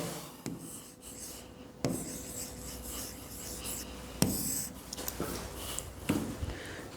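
A marker or chalk writing on a board during a teacher's demo lesson, soft scratchy strokes with a few sharper taps, close but quiet, with no talking.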